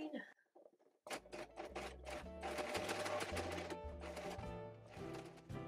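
A small sewing machine stitches lace onto Edwardian-style bloomers, its rapid mechanical whir running in steady bursts with brief pauses after a quiet start.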